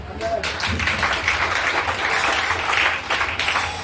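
Applause from a conference audience, a dense wash of clapping that swells and carries on steadily for several seconds.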